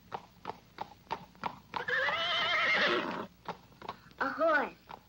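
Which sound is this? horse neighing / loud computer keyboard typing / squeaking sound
horse neighing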